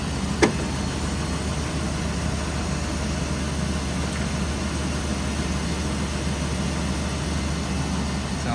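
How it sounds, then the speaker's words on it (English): A 2001 Cadillac DTS with a 32-valve Northstar V8 idles with a steady low rumble and constant hiss, unchanging throughout, with no one talking. "Has a 32-valve Northstar engine in it."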